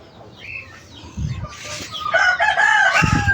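Hen and rooster outdoors, a rooster crows nearby in one rising call while hens cluck in short bursts around it, fairly close and loud.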